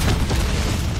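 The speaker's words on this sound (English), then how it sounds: "Explosion." A deep, rumbling in-game explosion from Call of Duty: Modern Warfare III Zombies mode, loud and sustained with heavy low-end boom and no pause across the whole second.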